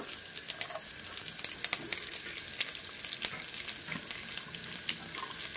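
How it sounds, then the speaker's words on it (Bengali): Chopped garlic sizzles in hot oil in a wok with a steady crackling fry, and irregular sharper pops and stirring scrapes run through it; the sound is fairly faint and close, with no talking. "রসুনটাকে এবার একটু ভেজে নেব।"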